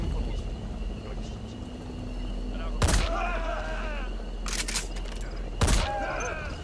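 Gunfire in the Metal Gear Solid 5: The Phantom Pain video game: three sharp, loud shots spaced a few seconds apart, each ringing out with a brief echo over a low ambient game background.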